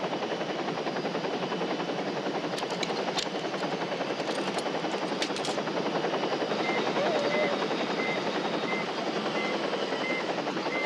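A helicopter's rotor and engine make a steady, loud, close chopping roar that runs the whole time without letting up, with faint voices briefly audible underneath.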